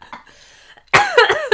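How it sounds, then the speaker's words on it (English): A person coughs loudly and close, two or three harsh bursts at the end after a quieter stretch with a faint earlier noise. "We're in and out of coughs, okay?"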